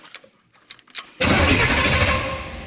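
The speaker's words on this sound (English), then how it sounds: "Moment of truth, Duff. Will it even turn over" A 1953 car with a swapped chassis, long dormant, cranks over: a few faint clicks and ticks, then a loud, steady broadband churn of the starter and engine turning that runs to the end without catching.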